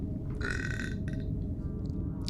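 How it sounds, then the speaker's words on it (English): A video game character gives one long, loud, gurgling burp, followed by a shorter trailing belch, over a steady low background hum from the game. "The thought of meat made me burp."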